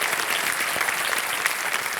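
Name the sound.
studio audience applause welcoming contestant's parents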